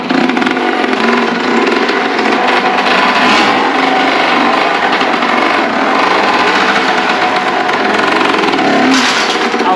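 Honda CG motorcycle engine running loud and steady throughout, with a dense continuous roar and no clear pauses, on a mountain ride toward Tilicho.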